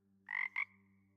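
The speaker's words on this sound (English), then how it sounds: "It's a frog." A frog croak in the video game Hades II: two short, bright croaks in quick succession, the second briefer, over a steady low game hum.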